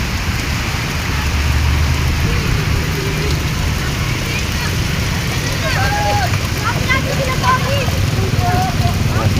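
Heavy rain pours steadily on a vehicle roof during a lightning storm, a constant loud wash with scattered drops and faint voices talking underneath.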